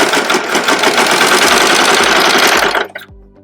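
A serger runs fast and steady over a small fabric scrap for a test seam, a loud whirring mechanical stitch that stops abruptly near the end, leaving a quieter hum.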